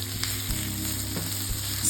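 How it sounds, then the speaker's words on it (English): Green and red peppers sautéing in a pan: an even, continuous sizzle with faint hum underneath and a couple of soft stirring bumps, close and alone with no voices. "I'm going in now with green and red peppers, and I'm going to saute this for 2 minutes"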